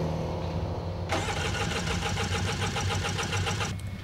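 A motorcycle engine turns over and catches, then runs steadily with a busy, rattling idle near the microphone before cutting off abruptly, heard after a mechanic's pre-delivery check.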